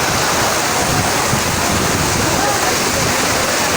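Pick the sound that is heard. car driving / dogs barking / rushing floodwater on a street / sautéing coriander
rushing floodwater on a street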